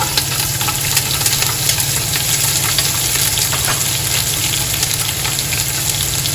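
Shallots fry in hot oil with cinnamon and mustard seeds for chicken biryani, a steady loud sizzle with a low continuous hum underneath and faint crackles throughout. No one talks.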